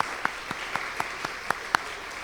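A church congregation claps at a worship service, giving sharp, evenly spaced claps in a steady rhythm against a soft room murmur.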